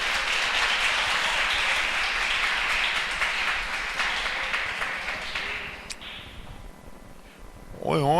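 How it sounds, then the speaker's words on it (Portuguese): A church congregation applauds during a sermon. Dense, steady clapping fills the room for about six seconds, then thins and fades toward the end. "Você pode aplaudir o nome do Senhor?"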